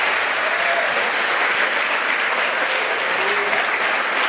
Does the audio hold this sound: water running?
no